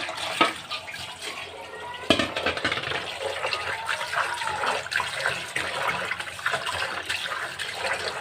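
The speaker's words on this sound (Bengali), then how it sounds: "বড় বড় পিস রান্না করব না ছোট করে নেব তো ভালোভাবে ধুয়ে নিচ্ছি" Pieces of meat are washed by hand in water, with continuous splashing, sloshing and running water close up and a few sharper knocks.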